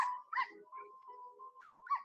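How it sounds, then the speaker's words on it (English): A litter of newborn puppies whimpers softly, thin high whines and small squeaks rising and falling in a quiet, close setting with no other sounds. "they find a litter of newborn puppies"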